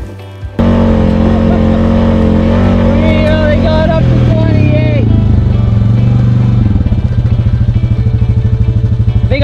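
A Honda Pioneer 500 side-by-side with a Power Commander V installed launches hard, its engine note rising steadily in pitch then settling into a loud rhythmic drone, recorded close from on board with a voice audible.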